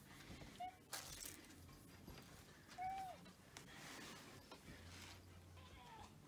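A cat gives two short, faint meows a couple of seconds apart, with quiet background rustling and no talking.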